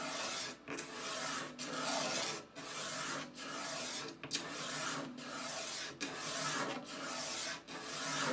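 A wooden Harmony Monterey archtop guitar neck being shaved down by hand, with steady rasping strokes in a regular rhythm, each separated by a short pause, close up and fairly quiet with no talk.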